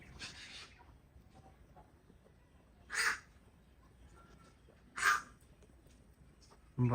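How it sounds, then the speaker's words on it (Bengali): A crow caws twice, a couple of seconds apart, over a quiet outdoor background with faint distant noise. "পাখির সাউন্ড শুনে ভয় হয়"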